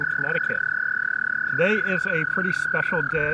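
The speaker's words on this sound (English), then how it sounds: "the melodic trill of the American toads" Dozens of American toads trilling at a pond on a Connecticut sanctuary farm, a steady high continuous trill running beneath someone speaking close by.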